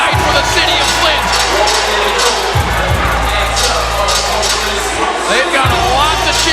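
Crowd cheering at a women's boxing match in Flint featuring Claressa Shields: a loud, dense arena roar with whoops and shouts rising and falling throughout, steady and enveloping with no pauses.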